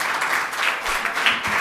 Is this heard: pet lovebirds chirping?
no